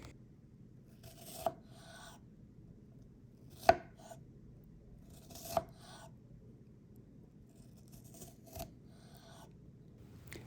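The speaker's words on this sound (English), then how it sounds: "we're going to use a paring knife to cut the stem of the strawberry and slice it vertically" Strawberries sliced with a paring knife on a board, a handful of separate soft cuts each ending in a light tap, spaced a couple of seconds apart, quiet and close with no talk.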